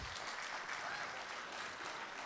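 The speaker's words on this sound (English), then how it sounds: "we give the 8th grade band a round of applause" Audience applause for an 8th grade band at a Selma Middle School spring band concert, a short steady burst of many hands clapping that fills the room evenly from start to finish.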